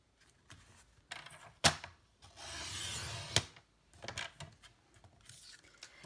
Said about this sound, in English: you're just going to cut off an inch, so it's 10 inches long